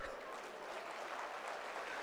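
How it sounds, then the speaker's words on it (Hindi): Audience clapping at a government job fair in Bhubaneswar: a soft, steady wash of applause that holds evenly for about two seconds, with no voices standing out. "आप भी ताली मार रहे हो,"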